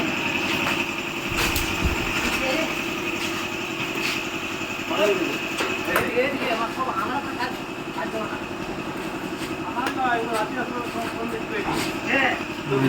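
Batasa (sugar drop) making machine running with a steady mechanical engine-like hum and rattle, continuous throughout, while people talk over it.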